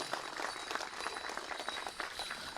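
Steady applause from an audience for dancer Martina Degelay at a powwow-style dance event, a dense continuous patter of many hands heard from a moderate distance with no voices over it.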